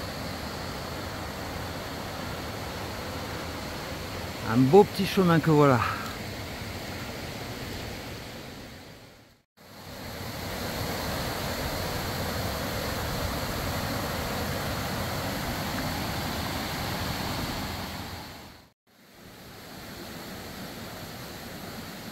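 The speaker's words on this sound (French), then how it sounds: "On longe un ruisseau de montagne." A mountain stream rushes steadily beside a forest trail in Shikoku, a broad, constant wash of water with a brief spoken remark near the start.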